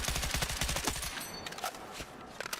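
Rapid automatic gunfire in the game Battlefield 6, a fast, evenly spaced stream of loud shots for about a second, then scattered shots and fainter battle noise with no talking.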